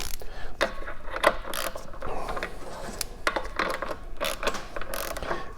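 A nut being snugged onto a Rotax 503 fan belt pulley with a ratcheting wrench, giving a run of close, dry mechanical clicks and metallic taps that come in short bursts over several seconds.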